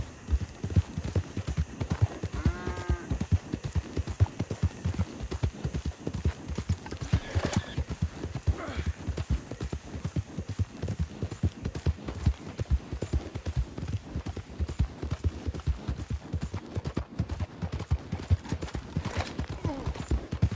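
Steady clip-clop of horse hooves in Red Dead Redemption 2 runs throughout, with a brief whinny early on, set against a busy, dense background of game sounds.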